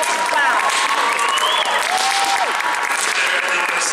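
Steady applause from a crowd at the Royal Fair fills the whole stretch, dense and even, with a few faint voices and whistle-like tones riding on top.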